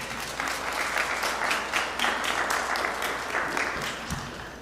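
A crowd at a city ceremony in Little Rock applauds the mayor, with dense, steady clapping that fills the room for several seconds before easing off slightly, and no voices over it.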